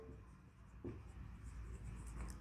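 Pen or pencil writing an answer by hand on paper, a soft continuous scratching close by over a low background hum, with one brief louder scrape.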